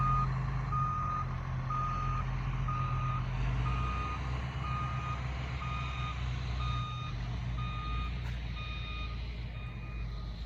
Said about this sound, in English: you can hear the vehicles that are out working already this morning to keep this project going